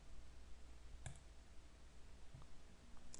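Mouse clicks in Maya software while setting up facial rigging, a couple of faint, sharp clicks spaced apart over a quiet room background.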